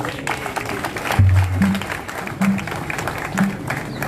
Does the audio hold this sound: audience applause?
yes